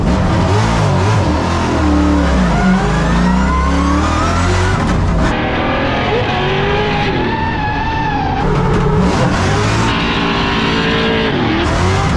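A drift car's engine revs hard on a qualifying run, loud and close throughout, rising and falling as the throttle is worked, with tyre squeal and bursts of acceleration.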